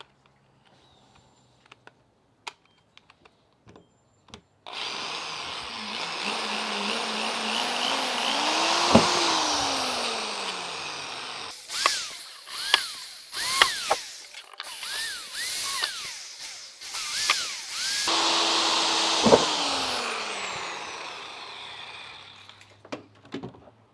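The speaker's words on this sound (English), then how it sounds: "pre-drill your holes" A power drill whirs in long bursts pre-drilling holes in a plywood panel, speeding up and slowing down, with clicks and clatter of tools between runs.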